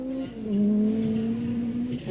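Timo Salonen's Peugeot rally car at the 1985 Lombard RAC Rally, its engine holding a steady, loud, high drone as it finishes a special stage, with a brief pitch change near the end.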